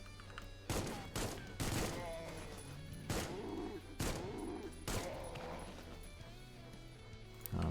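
Rapid alt-fire gunfire in the shooter game Supplice lands as a series of heavy, punchy shots spaced about a second apart, with crashes and thuds of hits in between.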